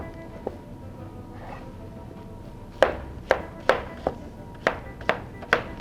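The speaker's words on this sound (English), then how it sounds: "You can either cut it in the cubes like we're going to do for this particular dish." Fresh pineapple being cut into cubes on a board, a run of sharp knife chops landing roughly every half second, close and distinct, following a quieter stretch with a couple of softer taps.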